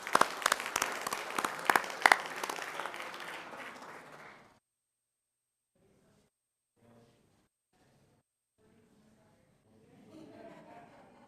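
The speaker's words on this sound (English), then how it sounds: "Let's give them one more round of applause." An audience at a school board meeting claps for about four seconds, loud and close, and the applause fades to near silence. Faint murmurs follow before quiet speech rises at the end.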